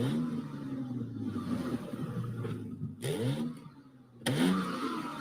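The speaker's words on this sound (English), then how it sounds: "that was a BMW exhaust" A modified, non-stock BMW with extra exhaust tips idles, then its engine is revved in a few sharp rising bursts. The sound is moderately close and stands alone without talking.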